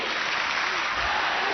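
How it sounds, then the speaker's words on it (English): A large tennis crowd at the 1999 Roland Garros final applauds continuously, a dense, even wash of clapping filling the whole moment. "crowd getting well behind Andrei today"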